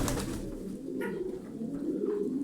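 Smoke-coloured tumbler pigeons coo in low, repeated throaty phrases, close and clear, with a few faint higher sounds in the background and no talking.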